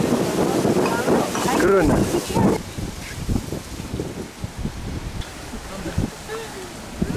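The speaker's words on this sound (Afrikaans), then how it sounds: "En die wind" Wind gusts buffet the microphone outdoors at a winery, a broad rushing roar that is strongest in the first few seconds and continues under intermittent talking.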